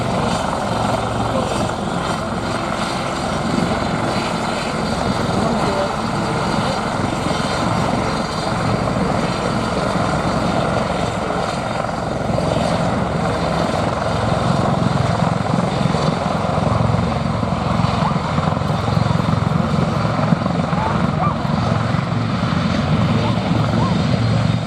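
A civilian aircraft at the Abingdon airshow 2023 gives a steady, loud engine drone that holds unbroken throughout, with a voice talking over it.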